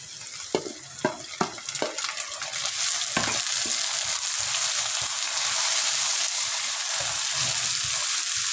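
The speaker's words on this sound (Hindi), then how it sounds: "अब मैं इसमें ऐड कर दूँगी ये सब्ज़ मिर्चें और 3 अदद टमाटर बारीक काटे हुए।" Green chillies and finely chopped tomatoes go into a pan of browned onions, a few sharp clattering drops giving way to a loud, steady frying sizzle that holds to the end.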